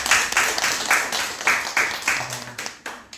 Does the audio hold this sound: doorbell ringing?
no